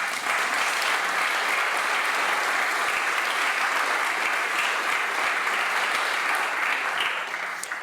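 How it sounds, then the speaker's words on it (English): A dense, steady wash of audience applause fills the Greek Parliament, many hands clapping loudly and evenly for several seconds with no voices on top. "deserve a special applause"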